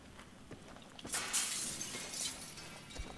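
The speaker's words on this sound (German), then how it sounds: "Ich hör schon wieder Glas." Glass shattering in the video game Battlefield 3: a loud, bright burst of breaking glass that rings on for about a second, with faint game noise around it and no talking.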